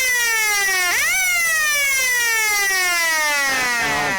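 A loud, sustained electronic siren at an Australian rules football match between East Point and Darley, a rich harmonic tone that dips, then jumps up and slowly glides downward before falling again near the end.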